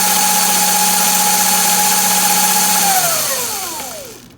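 A Sur Ron Light Bee electric dirt bike fitted with a primary chain kit for lower gearing runs at low speed with a steady, close electric whine that winds down and fades out near the end.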